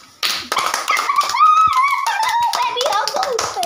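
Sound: children clapping hands

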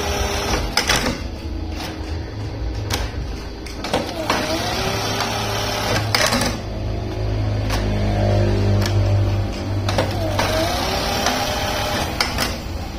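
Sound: Juki buttonhole sewing machine with servo motor running

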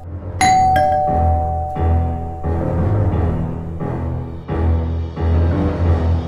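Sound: doorbell ringing

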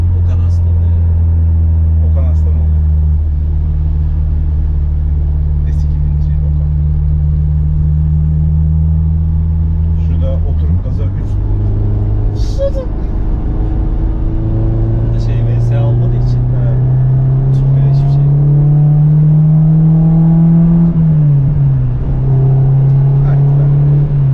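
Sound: car engine revving through exhaust

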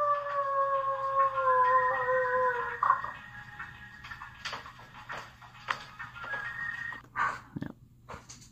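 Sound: person imitating a wolf howl

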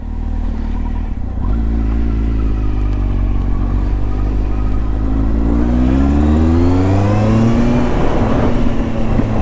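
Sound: Kawasaki Z1000 motorcycle engine running

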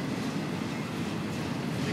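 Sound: CP T-25 intermodal freight train with GMD locomotives passing

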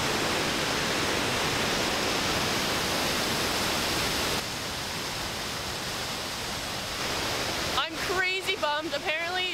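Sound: waterfall

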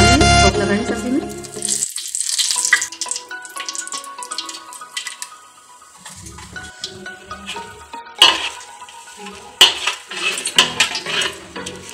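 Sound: frying bay leaves and cinnamon in a pan

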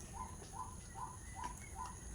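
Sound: birds singing in the morning

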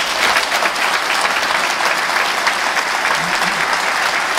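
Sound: loud applause from the audience

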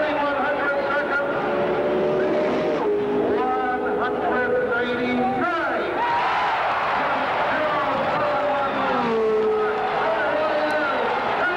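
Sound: 1973 Indianapolis 500 race car engine during a qualifying run

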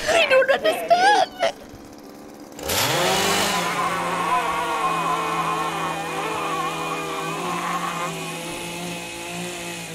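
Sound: chainsaw in video game Jazzpunk

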